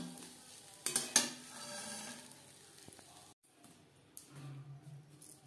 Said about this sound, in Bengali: দিয়ে দিয়েছি সরষের তেল, দিয়ে দিলাম ছোট সাইজের একটা আলু